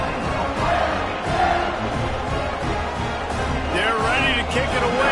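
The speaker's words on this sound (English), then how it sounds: "this crowd is buzzing after that last score." A college football stadium crowd buzzes and roars in a continuous dense wash after a score, with a commentator's voice talking over it and occasional shouts rising out of the noise.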